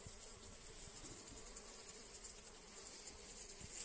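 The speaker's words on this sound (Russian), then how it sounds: "Ты слышишь мух?" A swarm of flies buzzes continuously for several seconds, a close, even drone with no talk.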